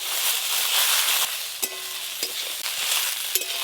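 Taro stolons frying with cumin powder in a pan, with a steady bright sizzle and a few distinct scrapes and knocks as they are stirred, close and moderately loud.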